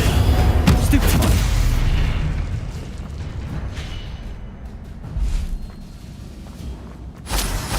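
Stupefy spell cast in Hogwarts Legacy, a loud booming burst with a whooshing magical impact that decays over several seconds, followed by further softer bursts, with no speech.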